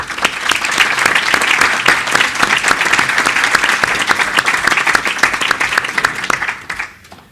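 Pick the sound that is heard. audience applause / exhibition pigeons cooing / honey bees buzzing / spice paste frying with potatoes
audience applause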